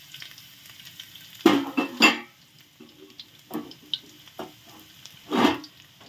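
Garlic fries in vegetable oil in a wok, with a low background sizzle under several separate bursts of spatula stirring and scraping, spread irregularly across a few seconds.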